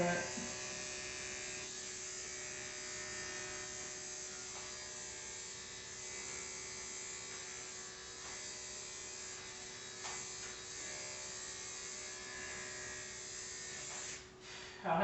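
Electric dog grooming clippers fitted with a #10 blade buzz steadily and close throughout, a constant motor drone while clipping a matted dog's coat, with a brief dip near the end.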